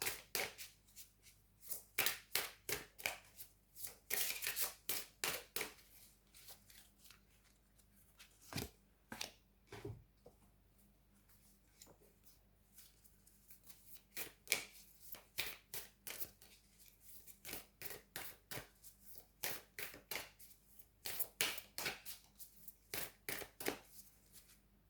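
Oracle cards are shuffled by hand in repeated rapid bursts of crisp riffling and slapping, close and quiet, separated by short pauses and a few isolated taps across the stretch.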